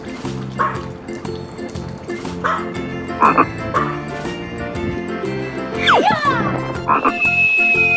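A frog croaks in a swimming pool amid repeated dog-like yips and barks, with rising and falling cartoonish squeaks and a whistling tone near the end; the calls come in short bursts over a busy background.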